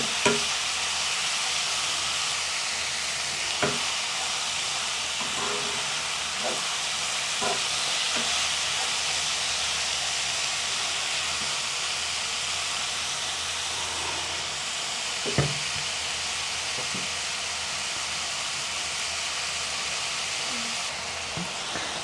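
Chicken sautéing in a pan for home-cooked biryani, a steady broad hiss of frying with occasional scrapes and stirring knocks, close and continuous throughout.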